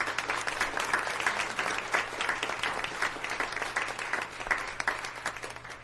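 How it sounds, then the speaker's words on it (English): A meeting audience gives a steady round of applause after a color guard presentation, dense clapping from a moderate crowd sustained throughout, with a faint hum underneath. "Please give them a nice round of applause."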